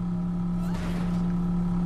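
A vehicle engine in Borderlands 3 drones steadily and loudly throughout, with a low constant hum and a brief rising surge in the middle.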